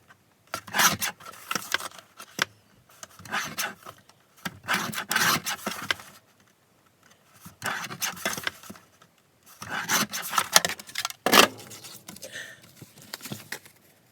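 Card stock is cut by hand for a handmade birthday card, heard as several separate bursts of close, crisp rasping cuts with short quiet pauses between them.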